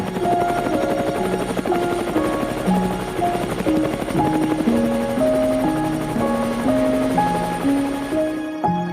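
A helicopter drones steadily from start to finish over Manhattan, New York City, its engine a constant loud hum with shifting whine tones, heard from up close inside the aircraft.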